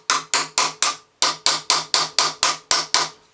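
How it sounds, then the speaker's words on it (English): A hammer bashing down a nut on a Lucas C40 dynamo during reconditioning: eleven sharp metallic strikes in a steady rhythm with a short pause after the fourth, close and loud with no talk. "Let's pull it out and just bash that down."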